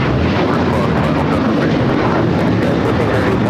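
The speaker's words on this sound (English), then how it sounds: "This is Alaska Airlines 1430 taking off to Puerto Vallarta on the 737-900ER." An Alaska Airlines Boeing 737-900ER takes off from LAX, a loud, dense roar of jet engine noise filling the short stretch evenly.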